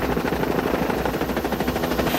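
Rescue helicopter hovering over a rocky cliffside rescue site, its downwash blowing dirt around; a loud, steady rotor thump and engine roar fills the whole stretch without a break.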